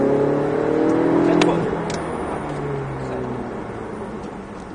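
A Ferrari 488 GTB accelerates on a race track near Perpignan, its engine note rising loudly and close, then settling into a steady, slightly fading drone.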